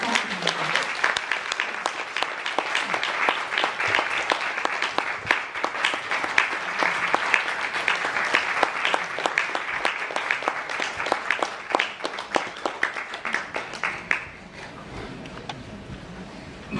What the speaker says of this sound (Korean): 환영의 큰 박수 부탁드립니다.